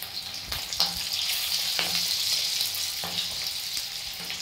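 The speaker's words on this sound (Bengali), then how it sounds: "চিংড়িগুলো দেওয়ার জন্য একটু আওয়াজ হচ্ছে বন্ধুরা।" Prawns dropped into hot oil for restaurant-style prawn chilli hiss in a loud, continuous sizzle, with a few sharper clicks and spoon scrapes breaking through up close.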